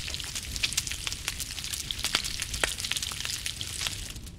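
A steak cooks over a campfire in The Long Dark, giving a steady close sizzle with dense popping crackles and spits, alone without any talking.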